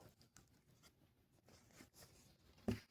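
A blue pencil sketching on paper gives faint, close, scratchy strokes in irregular bursts, with one sharper tap or knock near the end.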